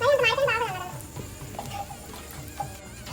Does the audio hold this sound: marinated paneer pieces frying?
yes